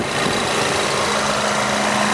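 2014 Volkswagen Eos with a 2-liter turbocharged four-cylinder idling under an open hood, a steady, close, even hum with a broad hiss over it and no talking.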